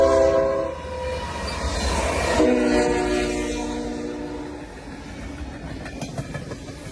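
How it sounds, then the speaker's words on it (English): Train horn blares over the rumble of a passing freight train with four locomotives and 88 freight cars, fading into the rolling clatter of wheels on track. "A 4-locomotive train for 88 freight cars."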